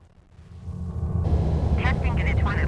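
F/A-18 jet in Microsoft Flight Simulator: the engine roar swells from quiet to a steady loud rumble, with a radio-like voice talking over it.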